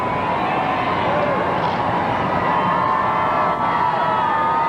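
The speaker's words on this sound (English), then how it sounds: "the only thing I can hear is just the crowd behind me waving and cheering" A dense outdoor crowd at a presidential inauguration cheers and shouts continuously, a steady wash of many voices with occasional whoops, loud and unbroken throughout.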